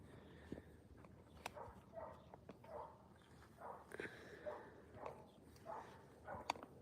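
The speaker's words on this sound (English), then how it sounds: "Oh, my neighbor's dog. Sorry if you hear the barking" A neighbor's dog barks repeatedly in the distance, faint, intermittent yaps recurring every second or so over quiet room tone.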